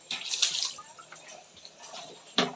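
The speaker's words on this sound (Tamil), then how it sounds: "நல்லா ஊற்றினாதான் அந்த பில்லு போகுது." Water is poured and splashed over a deity statue to wash off stuck grass, giving short bursts of splashing and trickling with quieter dripping between, close by and with no voices.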